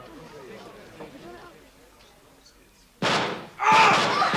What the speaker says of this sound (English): What was that noise? Sounded like gunshots.